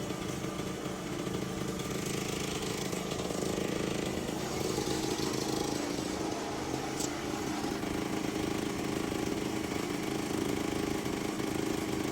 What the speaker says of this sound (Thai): อันนี้ก็ใช้เครื่องตัดไฟนะคะในการเชื่อมเหล็ก